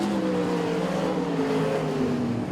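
Limited sprint cars race at Ellenbrook Speedway during a heat, their engines roaring and revving with rising and falling pitch as they pass, loud and continuous with no other sound.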